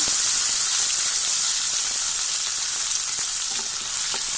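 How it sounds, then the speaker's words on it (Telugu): Garlic fries in oil in a pan for village-style tomato mint chutney, giving a loud, continuous sizzle close by with faint stirring ticks underneath. "వీటిని కానీ బాగా కలర్ చేంజ్ అయ్యేంత వరకు బాగా ఫ్రై చేసుకున్నామండి"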